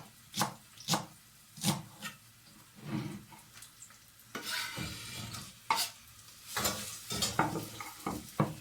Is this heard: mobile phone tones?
no